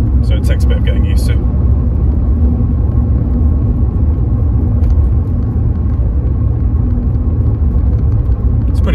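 Inside a 1991 Mercedes-Benz 190E 2.0 E on the move, a steady low engine and road rumble fills the cabin evenly, with a few light rattles and clicks on top.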